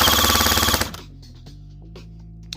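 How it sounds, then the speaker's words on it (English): ICS L86 airsoft rifle on an 11.1 volt battery firing full auto, a loud, rapid buzzing burst of shots lasting under a second before cutting off, followed by faint mechanical clicks. "Let me flip this thing into full auto so we can get some RPS, or rounds per second."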